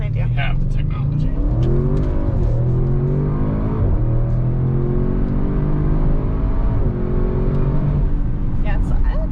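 A 2021 Audi RS6 Avant's engine revs and pulls hard under acceleration from inside the car, loud and steady, with a rising and falling drone through several gear changes.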